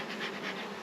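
Honeybees buzzing at an opened hive during an inspection, a dense, continuous, fairly loud drone of many bees close by, with no talking.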